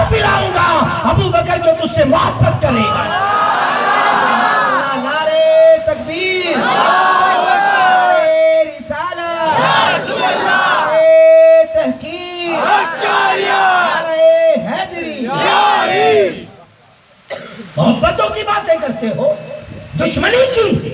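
At a religious gathering celebrating Garib Nawaz, a large crowd answers the Nara-e-Takbir call, shouting Allahu Akbar in loud, repeated chanted bursts, with a leader's voice between the responses.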